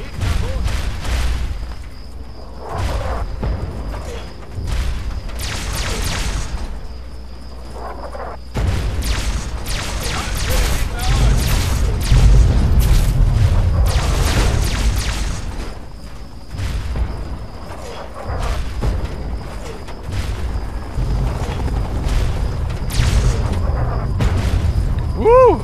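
Artillery explosions in Fallout 3, a steady run of deep booms and rumbling bursts over about 25 seconds, fairly loud, with someone talking over parts of it.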